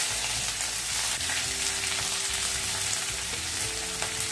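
Onion frying in two tablespoons of hot oil, a loud, steady close-up sizzle with faint stirring, no voices.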